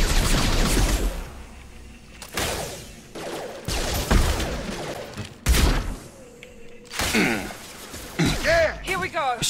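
Shotgun blasts in the sci-fi shooter Mass Effect 2, several sharp, loud reports with gaps between them, mixed with combat noise and in-game character voices speaking.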